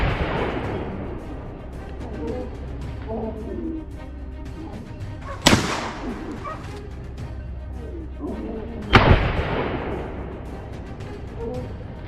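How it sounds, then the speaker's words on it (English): Two sharp, loud hunting-rifle gunshots at wild boar on a Texas farm crack out several seconds apart, each ringing off into a fading echo over a low outdoor background. "Before I can even reload, a gunshot rings out."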